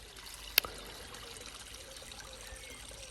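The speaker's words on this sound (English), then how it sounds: "So all this is spring water." Spring water trickles and dribbles softly and steadily in the background, with one sharp brief click near the start and no talking.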